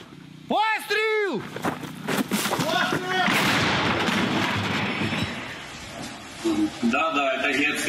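An artillery gun fires a single shot after a shouted command, with a sustained heavy boom and rolling echo that fills the next few seconds before voices return.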